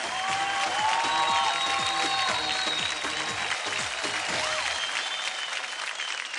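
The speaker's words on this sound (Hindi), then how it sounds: "जोरदार तालियां हो जाए।" Loud studio audience applause on a TV dance show, steady dense clapping from a large crowd, with bright music tones running over it.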